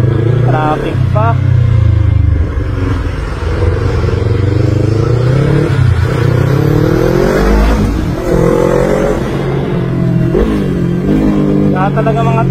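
Busy road traffic with cars and motorcycles passing close by, engines revving and droning steadily throughout, loud and continuous, with a voice talking over it in places.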